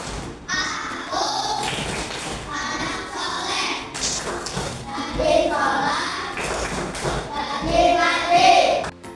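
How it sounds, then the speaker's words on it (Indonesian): Classroom of children performing the tepuk anak soleh clapping chant, rhythmic bursts of hand claps and thumps mixed with young voices chanting together, loud and close throughout. "Bapak minta kita untuk melaksanakan tepuk anak soleh"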